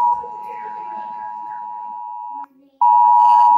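A UK emergency alert alarm sounds as a loud, steady electronic tone that holds for about two and a half seconds. It cuts out briefly, then returns just as loud, with a harsher, buzzing edge.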